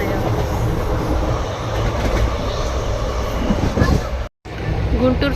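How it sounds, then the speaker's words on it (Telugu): A passenger train rolls along after leaving Guntur station, making a continuous close rumble with rhythmic wheel clatter on the rails and a brief dropout near the end. "గుంటూరు స్టేషన్లోంచి ట్రైన్ బయలుదేరింది."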